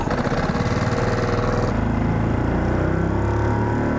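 A Mercury/Tohatsu 6HP outboard motor on a jon boat runs at quarter throttle, a close, loud, steady buzzing drone with a slight shift in tone partway through.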